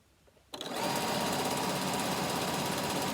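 Sewing machine stitching a quarter-inch bag seam, starting after a half second of quiet and running at a steady, rapid, close-up clatter until the end, with no talk.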